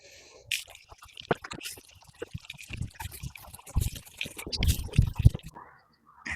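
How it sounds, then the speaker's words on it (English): Water trickling and splashing onto freshly transplanted onion seedlings in a garden bed, irregular pouring and dribbling bursts at close range, growing heavier toward the end. "Now we're going to water these in."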